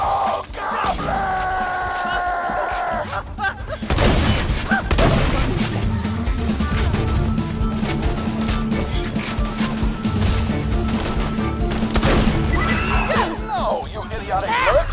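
Borderlands 2 gameplay with steady, dense gunfire and crashing impacts running throughout, loud and close, mixed with game music, yelling and someone talking over the action.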